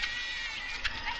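Sheep bleat in a rural village setting, a short, fairly faint call over a steady background hiss with no clear speech.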